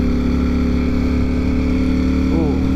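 A Ducati Streetfighter V4S motorcycle cruises along an empty road at night, its engine a loud, steady drone under rushing wind, with a rider's voice briefly mixed in.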